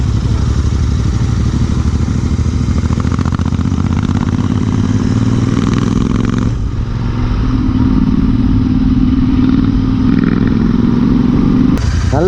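A Royal Enfield Interceptor 650 motorcycle runs through its exhaust, a loud, close engine note that idles with a clattery throb, then revs up with rising pitch and settles again.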